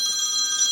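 A telephone rings indoors in a loud, steady electronic trill that continues throughout without pause.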